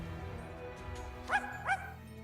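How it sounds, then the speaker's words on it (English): Zero the dog in the game Twisted Wonderland gives two quick, bright yips over faint low background music, the second following the first after a brief gap. "I love the dog."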